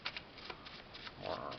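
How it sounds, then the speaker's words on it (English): A deck of cards from the board game Agent Decker being shuffled, soft riffling flutters and light taps, faint and close, lasting under two seconds. "Let's see if it still shuffles up after 5 years"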